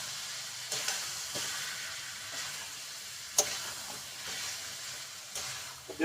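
Ginger, garlic and green chili paste sizzles steadily in a hot pan for a spinach chicken curry, a constant frying hiss with a few sharper spatters and stirring clinks, nobody speaking.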